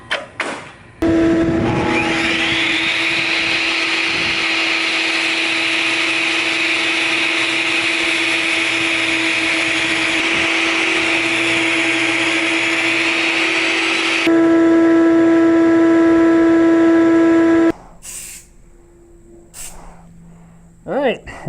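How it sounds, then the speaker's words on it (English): A table saw rips a 3/4-inch MDF sheet down to casing width, its loud, steady motor whine and cutting roar running unbroken for about sixteen seconds before the blade winds down into a quiet room. "I can just rip it down on the table saw."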